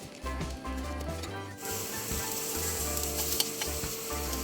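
Pepperoni and Hawaiian pizza toppings sizzle in a pan, a steady close frying hiss with stirring scrapes and a low hum underneath.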